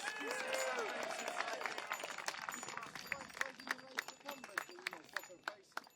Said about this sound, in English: we give a big cheer to Andy for the t-shirts and posters